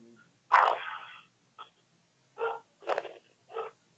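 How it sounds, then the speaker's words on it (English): A dog in another room gives a few muffled, short barks spaced by quiet gaps, distant and fairly soft. "Oh, the dog's in the background. He wants to be on the show. Yeah, you can hear her."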